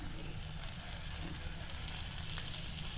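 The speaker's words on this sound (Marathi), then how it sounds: "छानसा बांगडा फ्राय करू" Bangda mackerel fry in a pan, a soft steady hiss of sizzling oil heard close but fairly quiet, with no talking.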